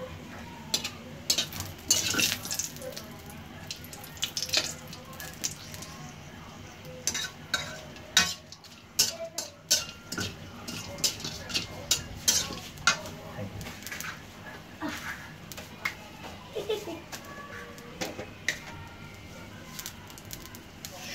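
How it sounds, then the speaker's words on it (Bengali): Semolina being stirred in ghee in a pan while making suji polao, with scraping spoon strokes and faint sizzling repeating steadily and close, light clinks of utensil against metal, and a voice occasionally talking. "একটু নেড়ে দিই গন্ধটা ঘিয়ের সাথে হয় মিশে"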